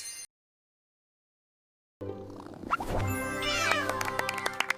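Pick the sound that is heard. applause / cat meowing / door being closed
cat meowing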